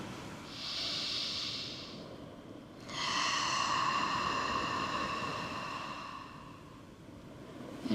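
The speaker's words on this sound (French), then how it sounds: "une inspire par le nez et une longue expire par la bouche" A person takes a slow, deep breath in through the nose, then lets out a long exhale through the mouth during a yoga flow; both breaths are close, soft and airy, with no speech.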